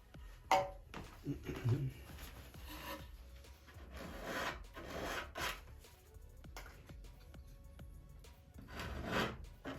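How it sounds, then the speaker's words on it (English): A curved Perma-Grit file rasps back and forth over a wooden wing fillet on a .60-size Top Flite P-40E Warhawk model airplane, giving close, irregular scraping strokes at a steady working pace with no talk. "This curved permagrit makes a great tool for doing that."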